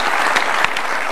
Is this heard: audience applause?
yes